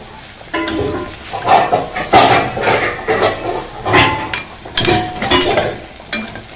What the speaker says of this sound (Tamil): குழம்பு நல்லா கொதிச்சுன்னு இருக்கு